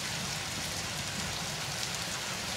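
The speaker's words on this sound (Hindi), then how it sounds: "इस वक्त फरूक और गिरदा नवा में शदीद बारिश जारी है" Steady heavy rain pouring down in Farooka, Pakistan, a dense continuous hiss with no voices over it.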